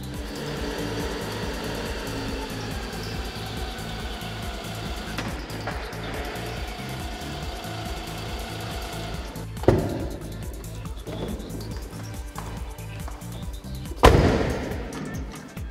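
A Twin Busch TW 250 heavy-line two-post car lift runs with a steady low motor drone pulsing in a regular rhythm, broken by two sharp metallic clunks, one near the middle and one near the end, with no voices.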